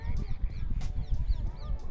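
Geese and other fowl honk close by in repeated loud calls over a rumbling wind-like background, with no talking.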